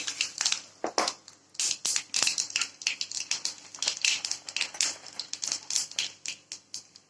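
Mustard seeds popping and spluttering in hot coconut oil for a mango kuzhambu tempering, a dense run of sharp, rapid crackles and pops close by, loud and steady with no talking.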